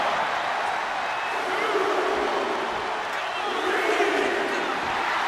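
Arena crowd noise from WWE 2K24 during a Last Woman Standing match between Liv Morgan and Rhea Ripley, a steady broad roar of spectators that holds evenly throughout and swells slightly toward the end.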